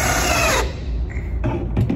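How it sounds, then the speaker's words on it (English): A power drill whirs briefly at the start, driving screws into wood, then stops, followed by softer knocks and clatter of work on a surface. "drill those screws in"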